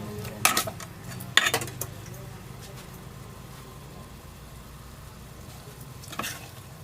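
Food frying in a pan is stirred so it won't stick: a few loud metal scrapes and clanks near the start and end, over a steady low sizzle and hum.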